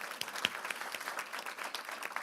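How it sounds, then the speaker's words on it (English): An indoor audience at a county crime-reduction announcement claps steadily in a dense, even patter of applause, moderately distant and alone without talk. "Let's give Barry Stanton a round of applause"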